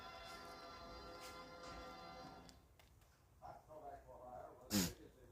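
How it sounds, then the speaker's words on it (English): Someone sneezes once near the end, a short sharp burst after a stretch of faint background sound and low murmuring; the whole clip is quiet. "got a case of the sneezes."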